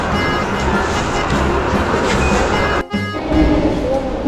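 Rumbling, steady noise at a train station on a long cross-border rail journey from Chișinău, with a brief dip near the end before the low rumble resumes, broad and continuous.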